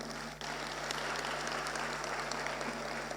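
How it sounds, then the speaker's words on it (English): A crowd applauds steadily, dense clapping filling a large room without pause. "you deserve a round of applause for yourselves"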